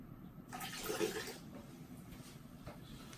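Water is drawn out of a ball python egg incubator in one brief, soft gurgling splash, followed by a faint, quiet hiss.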